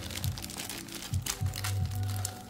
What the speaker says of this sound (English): let's shuffle the packs